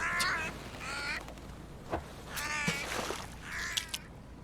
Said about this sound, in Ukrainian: На мене чуть пташка не напала.